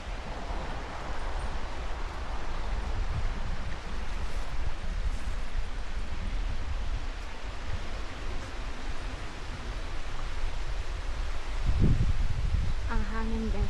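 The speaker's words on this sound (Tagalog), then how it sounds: "Ang hangin guys, medyo malamig." Steady broadband wind rushes outdoors throughout, a constant loud whoosh with a brief thump near the end.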